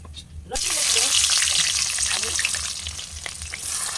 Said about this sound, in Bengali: শুকনো লঙ্কা আর গোটা গরম মশলা, তাই তো ফোড়ন দিয়েছে